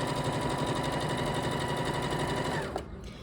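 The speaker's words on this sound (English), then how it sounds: "and then I sew that section." A sewing machine stitches a rolled hem in silky, non-stretch fabric with a loud, steady close whir that runs evenly, then drops off near the end as the machine stops, with no talking.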